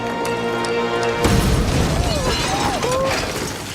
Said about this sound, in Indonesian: granat tangan yang meledak di dalam kamar hotel tersebut